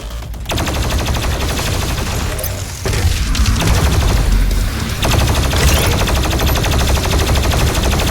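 The BFG 10,000 in DOOM fires as a dense, continuous barrage of rapid blasts, loud and heavy, with a couple of brief dips between long sustained volleys and no talking.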